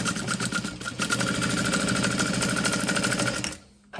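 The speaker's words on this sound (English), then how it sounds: "I'm going to sew across the top" Sewing machine stitching a seam across the top of a handbag, a loud, rapid, steady mechanical chatter of needle strokes close by that runs for several seconds before cutting off.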